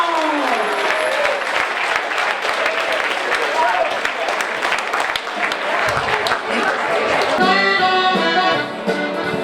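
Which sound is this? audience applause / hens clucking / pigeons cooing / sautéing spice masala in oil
audience applause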